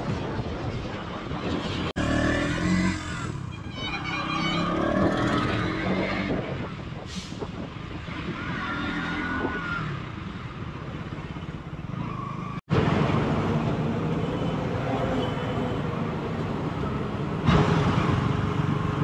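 Traffic on a road in Mangaon during a motorcycle ride from Mumbai to Kokan, with passing vehicles overtaking amid steady engine and wind rumble, a few louder bursts and brief background voices.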